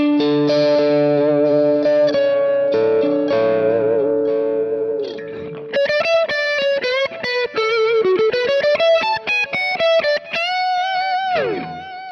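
Electric guitar played through a Kemper profile of a Dr. Z Maz 18 non-reverb amp, with sustained chords and then quick picked melodic runs, loud and up close, with no talking.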